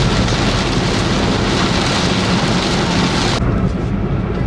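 Heavy rain drums steadily on a Daihatsu Ayla car during a road trip past Subang toward Tegal, a loud, dense wash of drops that continues unbroken and eases slightly near the end.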